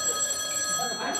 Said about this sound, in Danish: Den der mobil ringer, det er rigtig pænt irriterende at høre på.